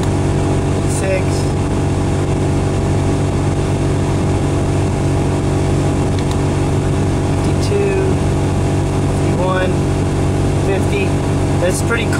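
A car engine idles steadily with the air conditioning running and the vent fan on high, a loud continuous hum and drone from inside the parked car, with a few faint background sounds.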